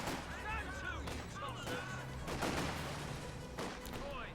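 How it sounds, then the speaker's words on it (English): Grenadier squad rifle fire from the Company of Heroes 2 video game: repeated sharp gunfire cracks and bursts across a steady battle din, with someone talking over the top throughout. "Grenadiers will begin firing at this infantry section."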